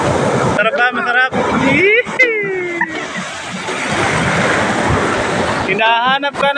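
Big ocean waves rolling in at San Felipe beach, a broad rushing surf wash swelling in the middle, mixed with wind and excited voices talking over it at the start and end.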